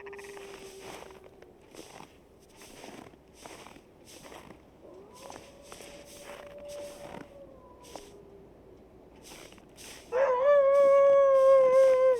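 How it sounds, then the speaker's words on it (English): A wolf howls in the video game The Long Dark: drawn-out howls rise and fall over a steady rhythm of crunching footsteps, and a louder, closer howl breaks in near the end. "A wolf? Yep."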